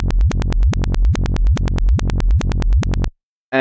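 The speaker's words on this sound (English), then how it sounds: "we were given a kick and bass, which is in reverse" Rapid, pulsing bursts of booming low bass and kick drum played in reverse, each swelling in like a reversed hit, repeating steadily for three seconds before cutting to silence.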